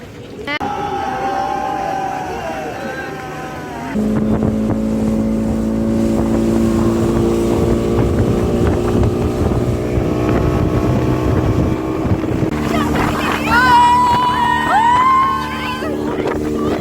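A speedboat's engine drones loud and steady on a lake in Udaipur, with wind rushing past and a brief change in pitch partway through. Passengers talk and call out over the motor throughout.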